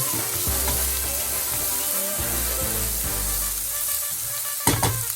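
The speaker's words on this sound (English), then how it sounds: "We're going to go in with some onions and our chopped peppers and about half a green chilli. Just going to give that a little stir." Onions, chopped peppers and half a green chilli fry in a pan on low heat with a steady, close sizzle, and a spoon stirs them in several scraping passes. Near the end comes a brief louder clatter.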